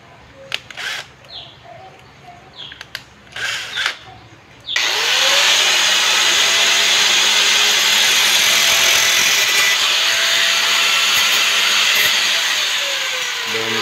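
A tube for a homemade tiksay dart is cut with a tool, a few brief handling clatters first, then a loud, steady high-pitched power-tool whine that runs without a break to the end.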